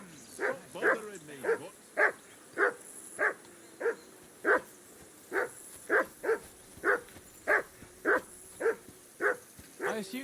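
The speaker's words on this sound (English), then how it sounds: "I assume you can hear that damn dog of yours barking." A dog barks repeatedly at a campsite on a riverbank in the video game Kingdom Come Deliverance 2, sharp evenly spaced barks, about two per second, moderately near over a faint outdoor ambience.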